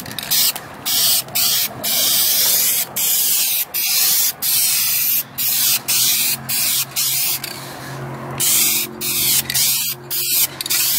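Light coats of spray paint misted onto plastic auto trim cladding: a steady run of short hissing aerosol bursts, about one per half second, close and fairly loud, with brief pauses between passes and no talking.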